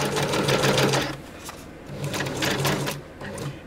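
Sewing machine stitching loosely around a scrap journalling spot, loud, close whirring runs in several bursts with brief slower pauses between them.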